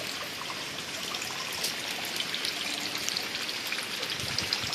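Rainwater drips through holes in a rooftop garden during rain, falling into a bucket as a faint, scattered patter of drops over a soft, steady trickle and background rain hiss.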